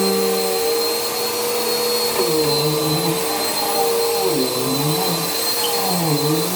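A vacuum cleaner runs loud and close while cleaning a room and closet, a constant high whine with a motor tone that dips and swells repeatedly as the nozzle moves across the floor.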